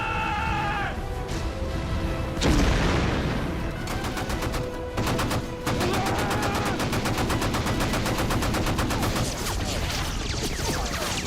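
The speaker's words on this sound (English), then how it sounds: "Repeat, rapid continuous fire to the shoreline." Rapid, continuous automatic gunfire in an action-movie battle scene, dense bursts rattling on for many seconds with a loud blast near the start, layered over a busy soundtrack.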